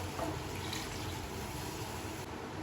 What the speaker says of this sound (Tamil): இப்போது நம்ம மிக்சி கழுவுன தண்ணியை அதில் போட்டுக்குவோம்